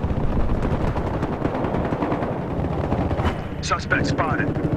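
Sustained automatic fire from an M416 rifle in the video game Battlefield Hardline rattles continuously and loud, with a voice briefly audible near the end.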